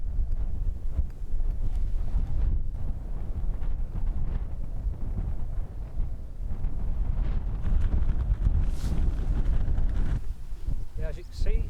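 Strong wind gusts across the microphone on an open Scottish hillside in the Southern Uplands, a steady rumbling roar with brief swells and no talking.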